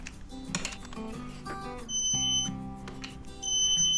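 A digital torque wrench set to 18 foot-pounds, used on a Honda CRF250L Rally, gives two short high beeps on reaching torque, after some quiet ratcheting and clicking.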